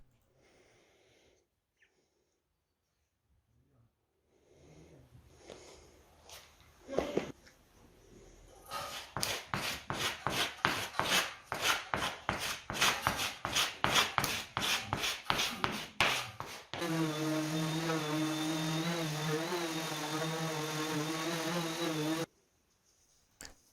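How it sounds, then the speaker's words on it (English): A tabletop's gaps are worked with a paste of wood adhesive and sanding sawdust, heard as close, rhythmic scraping and rubbing strokes that speed into a quick repeated rasp, followed by a steadier continuous scraping before stopping. "I will fill the gaps in the tabletop with a mixture of wood adhesive and sawdust resulting from sanding"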